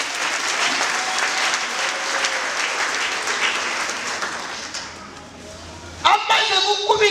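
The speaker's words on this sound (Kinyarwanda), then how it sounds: "Dukomere Yesu amashyi menshi" A church congregation applauds in a broad, sustained roar of clapping that fades toward the end, after which a voice comes in.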